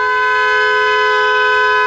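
Car horn blaring along Cedar Avenue amid a line of cars, one loud, steady, unbroken tone held close for nearly two seconds with no voices.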